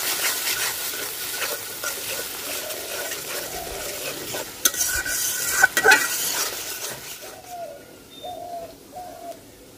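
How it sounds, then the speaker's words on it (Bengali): Spice paste of turmeric, salt and a little sugar being stirred and fried in a pan for a koi fish curry, a steady soft sizzle with scraping stirs and a louder clatter midway, while a dove coos in the background. "এখন মশলাটা ভালোভাবে কষাইয়ে নিই।"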